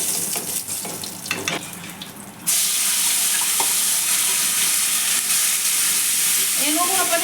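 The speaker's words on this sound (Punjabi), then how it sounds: "ਬਸ ਆਪਾਂ ਥੋੜਾ ਜਿਹਾ ਇਹਨੂੰ ਫਰਾਈ ਕਰਾਂਗੇ" Hot oil sizzles loudly with a steady, dense hiss as spice paste fries in a kadai after a sudden start, with some stirring and scraping in the pan.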